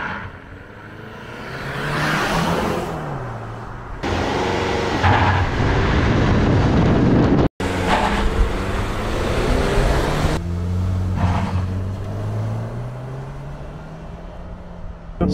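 A Mazda CX-50 Meridian Edition launches hard from a standstill in a 0-60 run, its engine droning loudly as it climbs through several upshifts with a steady rising whine and road roar, no talk over it.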